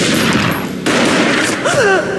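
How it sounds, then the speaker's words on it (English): Gunshots in the video game Max Payne, loud sharp reports and a dense burst of fire that break off abruptly, then resume, with a whistling rising tone near the end. "A gunshot boomed and she fell down in slow motion."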